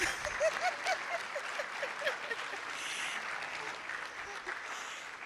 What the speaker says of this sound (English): Can we all rise up and with a hand of applause, say a big thank you?